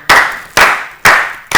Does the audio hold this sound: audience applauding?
yes